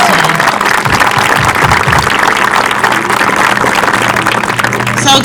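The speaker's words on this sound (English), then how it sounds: "let's give a round of applause to Mr." Steady, dense applause from a crowd at an 8th grade promotion ceremony, loud and continuous throughout without a clear break, with a low hum underneath.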